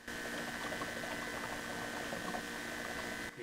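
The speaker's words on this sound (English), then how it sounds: "You may hear some gurgles as well as some air passes through." Fuel gurgles and bubbles as air passes through a Mazda BT-50's priming fuel system, a continuous bubbling like a spa bath over a steady pump hum, no talking.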